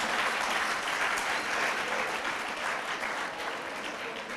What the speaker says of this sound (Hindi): अब बजाइए ताली